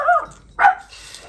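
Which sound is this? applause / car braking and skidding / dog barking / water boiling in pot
dog barking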